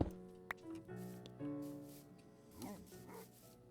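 A dog whimpers and yips in short, high whines amid a busy Minecraft soundscape with background music, the cries rising and falling over a few seconds.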